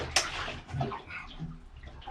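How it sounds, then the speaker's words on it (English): Water gushes from a tap being turned on during a plumbing repair, a splashing, irregular flow with a few knocks and clatters, fairly quiet and close. "Just turn this water on"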